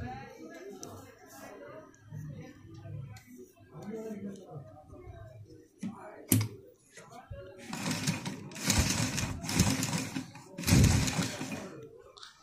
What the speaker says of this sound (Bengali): দেখেন আমি সেলাই করতেছি